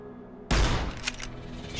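Sudden burst of gunfire in Fallout: New Vegas, a loud sharp onset after a quiet moment, followed by a rapid fusillade of shots fading into a ringing tail.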